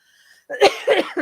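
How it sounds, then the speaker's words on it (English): A single close, forceful cough with a short follow-up hack, preceded by a faint breath. "Now I'm going to cough."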